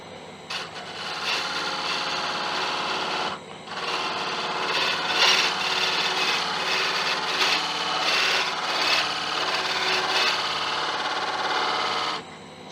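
A carbide tool cuts a groove in Irish bog oak spinning on a wood lathe, making a steady close scraping hiss with brief pauses near the start and again after three seconds, then running on until cutting off near the end.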